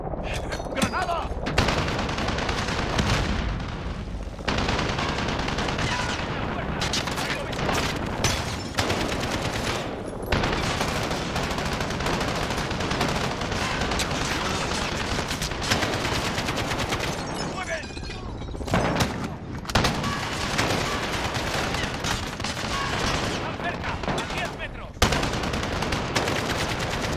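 Dense gunfire rattles through a Call of Duty: Modern Warfare campaign mission on PS4 Pro, with loud automatic bursts and single shots going almost continuously and brief pauses between volleys.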